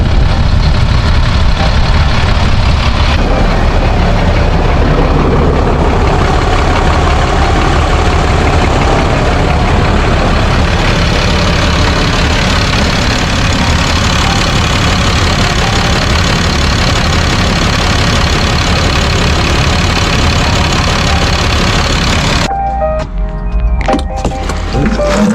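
A Caterpillar 3126 diesel engine idles steadily in an M1084A1 LMTV truck, a loud, continuous low rumble running unbroken for most of the span before it shifts to a rougher, choppier sound near the end.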